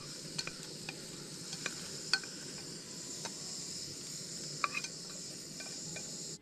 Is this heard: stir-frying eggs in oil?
yes